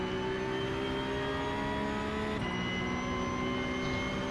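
Porsche 911 Cup (992.2) race cars at Monza in iRacing, a steady high engine drone with harmonic whine, pitch dipping slightly midway as the pack stays tightly bunched, loud and continuous with no talk.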